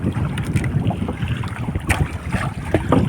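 A sailboat moves across open water in the wind, with water splashing and lapping against the hull and gusts buffeting the microphone, loud and close throughout.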